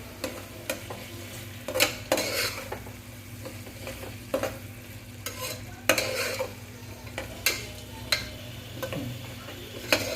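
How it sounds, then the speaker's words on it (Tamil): Mint leaves being stirred into a frying mushroom biryani masala for Chettinad-style mushroom biryani, with a spoon scraping and clinking against the pan in repeated strokes over a steady low sizzle. "சேர்த்துட்டு நல்லா ஒரு நிமிஷம் போல் சேர்த்து கிண்டி விடுங்க"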